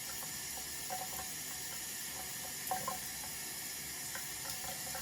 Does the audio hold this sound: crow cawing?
no